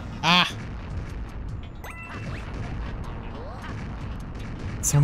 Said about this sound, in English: So many cannons.